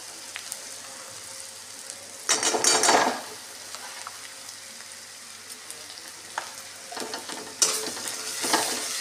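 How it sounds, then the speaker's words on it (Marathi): Masala and onions for mutton curry fry in a pan with a constant low sizzle, broken by two louder bursts of stirring and scraping and a few scattered clicks of the spoon against the pan. "मसाला भाजून घेते"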